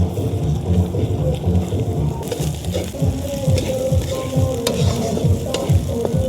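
Salt and turmeric stirred into hot oil for a village-style goat curry, a steady loud sizzle with repeated scraping stir strokes throughout.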